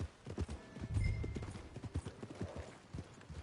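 Horse hooves clip-clopping at a steady walking rhythm in Red Dead Redemption 2, close and moderately loud, with a faint whinny and no talk over the steps.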